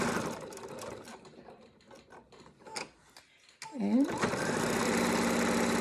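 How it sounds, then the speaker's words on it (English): A sewing machine stitches the closing seam of a fabric face mask, its motor whirring in short bursts and then running steadily and loudly near the end, with a brief spoken word early on. "when you sew, you're going to grab both pieces of material to close up that seam"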